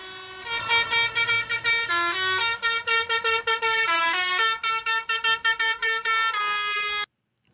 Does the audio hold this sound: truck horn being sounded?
yes